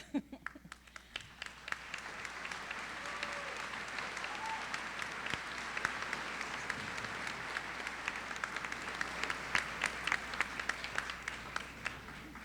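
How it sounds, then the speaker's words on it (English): Steady applause from a large audience at a college commencement, a dense wash of clapping that swells after a few seconds and holds strong to the end. "I don't know if you'd like to stand for a little round of applause."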